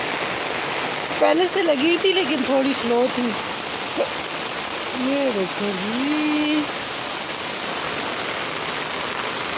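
A downpour of heavy rain roars in a constant, even wash throughout, with someone speaking briefly over it early and again midway.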